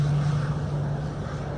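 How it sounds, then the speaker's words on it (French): Embraer Super Tucano propeller aircraft taking off, a steady loud engine drone with a strong low hum held throughout, fading only slightly toward the end. "La verrière se referme et le Super Tucano s'élance pour un circuit de 4 tours à 1000 pieds"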